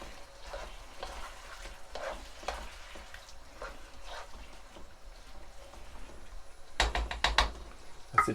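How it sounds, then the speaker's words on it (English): A pan of sauce with soy sauce and oyster sauce is stirred and sizzles faintly, soft scraping and bubbling throughout, then a few louder knocks of the utensil against the pan near the end. "Give that a nice stir."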